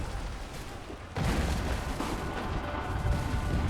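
Gunfire in the Assassin's Creed III game: a dense, continuous barrage of shots and booms that jumps louder after about a second and keeps rumbling steadily to the end.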